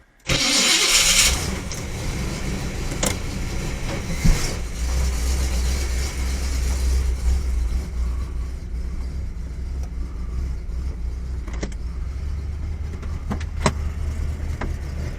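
Pontiac Trans Am engine starting, a loud cranking burst that catches into a steady low idle rumble heard close in a garage, with a few sharp clicks and knocks later and no talk.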